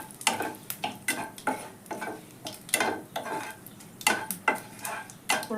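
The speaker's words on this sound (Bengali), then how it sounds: "আমি তেলের মধ্যে কিছুটা জিরে, তেজপাতা আর শুকনো লঙ্কা" Cumin seeds, bay leaf and dried red chili frying in oil sizzle continuously, while a spatula repeatedly scrapes and clatters against the pan in an uneven rhythm, close and clear.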